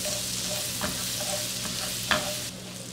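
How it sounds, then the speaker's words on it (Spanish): Ingredients for camarones a la diabla sizzle steadily in a pan as a utensil stirs them, with a few clinks and scrapes against the pan over the constant frying hiss, close up and without speech. "Vamos a mezclar para que se sofrían un poco."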